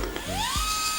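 A MINI ES121 smart electric screwdriver spins up with a close, high motor whine whose pitch rises steadily, with a brief low thump partway through.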